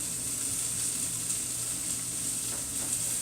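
Green beans with onion and garlic sizzle steadily in butter and oil in a pan, a continuous bright crackling hiss at even loudness throughout, with no voices.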